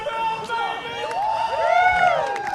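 A crowd at a mixed doubles gold medal match cheers and whoops in a sustained roar of mixed voices, loud and spread out, with shouts rising toward the end.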